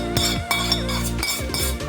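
A spoon stirring homemade chutney powder mixed with oil in a bowl, giving quick scraping clinks against the bowl in a steady repeated rhythm, close and loud with no talking.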